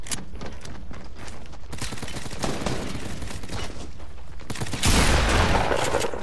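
Rapid pistol fire in the video game Fortnite rattles on steadily throughout, with a louder, denser burst of shots near the end.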